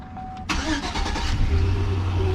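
A car engine, being swapped into a 240SX drift build, cranks and fires up at close range, settling into a steady low rumbling idle after a brief starter whir.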